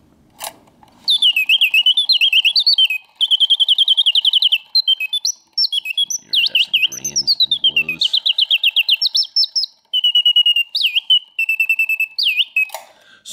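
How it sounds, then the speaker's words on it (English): Vintage Karl Griesbaum singing bird box with fired glass enamel, its mechanism whistling loud, close, trilling birdsong in repeated warbling bursts separated by short pauses. "Karl Griesbaum singing bird box, crafted slightly before or during World War II"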